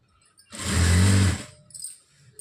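Sewing machine running one quick burst of stitching along a blouse side seam, a close, steady mechanical whir lasting about a second before stopping.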